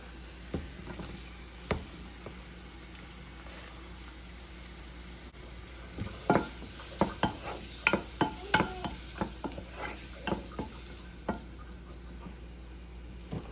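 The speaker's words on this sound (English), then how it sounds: "I'm gonna put the onions in. Wait for that to cook down on just a little bit." Onions cooking down in a pan, with a soft steady sizzle under scattered clacks and scrapes of stirring that grow busier midway, close and fairly quiet, with no talking.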